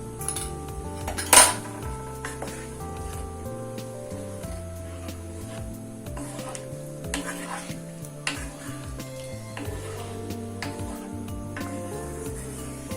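Metal pots and utensils clatter and scrape steadily while spices are tempered for a pirandai (veldt grape) curry, with one sharp clang early on and a faint sizzle underneath.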